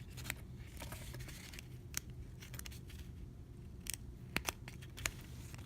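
Scissors snip through the edge of metallic tape, a string of crisp, quiet clicks and cuts at an uneven pace with a few sharper snaps near the end.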